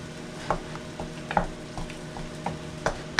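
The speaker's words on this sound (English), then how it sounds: "we're gonna give it a stir." A spoon stirring picadillo in a sizzling pan: a light frying hiss runs under several distinct scraping knocks spaced out at an irregular pace.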